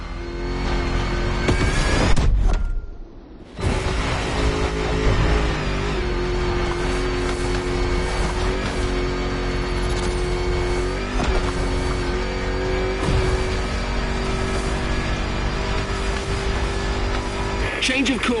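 A 400-horsepower Defender in The Crew Motorfest video game drones with a sustained engine note and tonal harmonics. A brief tire squeal and a sharp dip come early, then the engine runs steadily under layered game sound.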